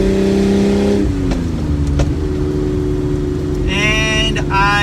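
BMW E30 Touring fitted with an N54 engine pulls at full throttle, its engine drone climbing steadily in pitch with a brief gear-change dip and rising higher toward the end, heard from inside the car.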